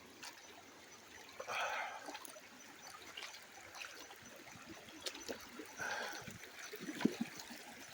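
Creek water trickling softly at a gold-panning spot along a riffle, a faint continuous wash with a few brief splashy swells, distant and low under light outdoor background noise.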